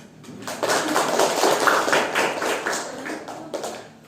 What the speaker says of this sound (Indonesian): Silakan kasih aplaus.